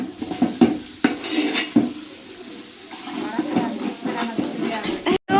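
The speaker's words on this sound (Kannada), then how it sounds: "ಈಗ ಸ್ವಲ್ಪ ಉಪ್ಪು ಮಿಕ್ಸ್ ಮಾಡ್ಕೊ." Salt is stirred into a biryani mixture in a cooking pot with steady scraping and clinking strokes, while people talk over the stirring.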